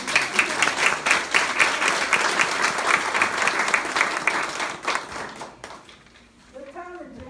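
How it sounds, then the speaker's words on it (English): A crowd applauds steadily for several seconds, then the clapping fades out and a voice begins speaking. "let's give them a hand clap"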